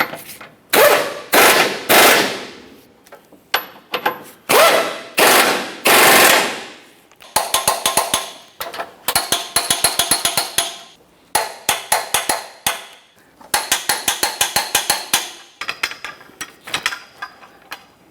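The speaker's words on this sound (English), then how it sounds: "I'm going to torque these to that 118 foot-pounds" A wrench tightens the subframe bolts on a Jeep Patriot. First come a series of loud, separate mechanical bursts, then long stretches of rapid ratcheting clicks in quick runs with short pauses between them. The work is close and no one speaks.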